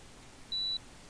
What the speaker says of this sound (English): It's a bomb! Quick! There's a bomb! It's a bomb! Yes, we should evacuate! It's beeping!